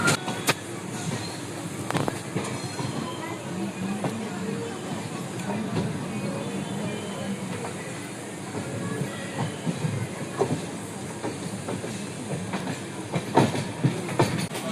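A passenger train leaving Vijayawada for Tirupati rumbles along steadily with rhythmic wheel clatter and occasional sharper clicks, heard from inside the carriage under faint background chatter.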